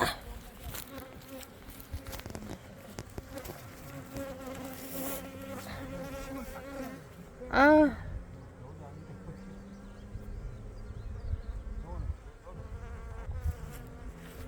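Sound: bees buzzing around a beehive

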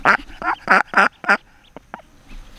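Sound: duck with duckling quacking

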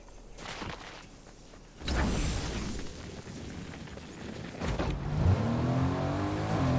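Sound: car driving in Fortnite video game

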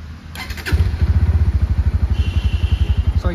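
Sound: Bajaj Pulsar NS160 motorcycle engine starting and idling

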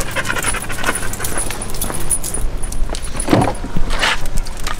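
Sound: dogs panting

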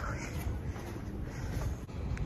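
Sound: wind

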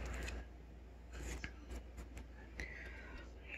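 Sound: scissors

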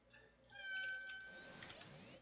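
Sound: cat meowing to be let out of room

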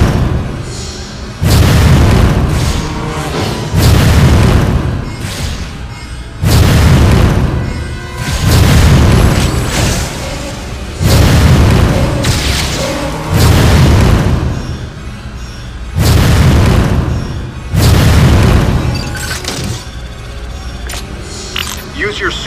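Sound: explosions from blasting the eruption port in a Metroid video game

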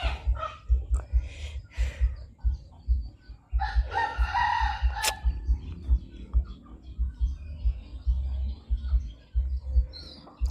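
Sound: chickens

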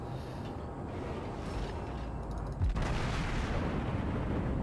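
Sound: battleship Fuso guns firing shells, World of Warships video game

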